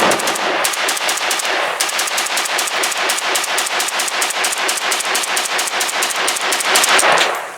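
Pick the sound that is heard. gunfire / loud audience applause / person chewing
gunfire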